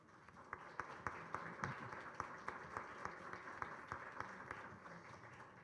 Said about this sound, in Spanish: Solicito un fuerte aplauso